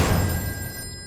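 A telephone rings with a brief, steady electronic tone that holds over a busy, noisy background and then fades.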